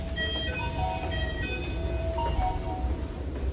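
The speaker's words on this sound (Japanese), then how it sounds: "ついに運命の京急川崎駅に到着します。" Keikyu limited express train, running with an out-of-service section still coupled, arriving at Keikyu Kawasaki station: a low steady rumble with faint squeals and rattles, heard from inside the carriage.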